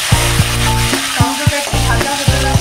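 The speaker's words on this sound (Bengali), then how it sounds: "টমেটোটা একটু ভাজা হতে লাগে, নরম হয়" Chopped tomato frying in hot oil over a bay-leaf tempering for a vegetarian soybean curry, a continuous close sizzle under a loud, rhythmic backing track with repeated thumping beats.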